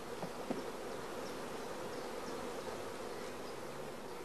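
Honey bees drone in a dense, continuous buzz as they are brushed off hive frames, a close, faint swarm hum with no voices.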